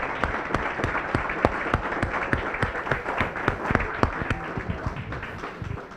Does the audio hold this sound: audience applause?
yes